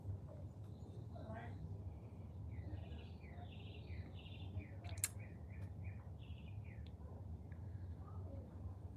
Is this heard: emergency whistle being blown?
no